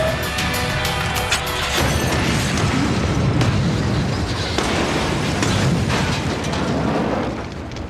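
C4 wired to a car's ignition detonates in a loud, sustained explosion, a broad roaring blast with crashing debris that rumbles on for several seconds before tapering slightly.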